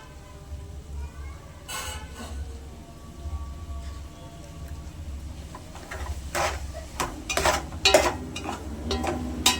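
Ginger goes into cooked-down tomatoes in a frying pan and is stirred, giving scattered scraping and clinking of a utensil against the pan over a low steady sizzle, with busier strokes toward the end.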